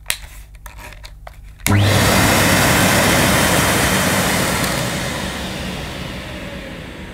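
Hoover S3132 Sensotronic System 3 vacuum cleaner: after a few small clicks and taps, the motor switches on abruptly with a loud, close whine and rushing roar that holds steady, easing slightly toward the end.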